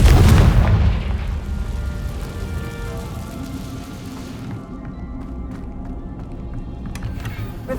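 A Confringo spell explosion in the Hogwarts Legacy game goes off as a loud, close, deep boom. A rumbling decay follows and fades over several seconds, with faint game ambience continuing after.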